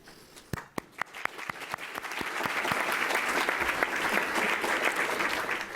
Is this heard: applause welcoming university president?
yes